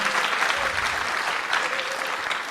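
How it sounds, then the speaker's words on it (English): Loud, dense audience applause fills a magic stage competition, the IBM British Ring Shield 2012, continuous clapping with no gaps from start to finish. "please keep the applause going for Shirley Ray"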